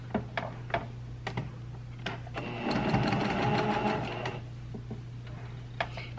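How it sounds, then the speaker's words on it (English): A sewing machine stitches a seam on lace fabric in a short, rapid whirring burst, framed by quieter ticks and clicks before and after, close by, with a faint hum underneath. "But I'm going to sew this seam upward so you don't see it under the lace"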